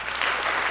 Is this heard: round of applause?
yes